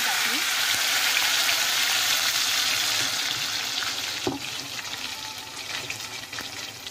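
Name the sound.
oil sizzling in kadhai for gravy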